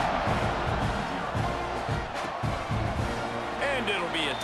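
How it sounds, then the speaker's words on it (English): A packed football stadium crowd at a Mississippi State game keeps up a loud, steady roar and buzz throughout, with a few brief shouts rising above it near the end. "this crowd is buzzing after that last score"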